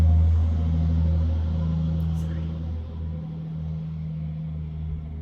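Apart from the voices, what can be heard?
big truck passing by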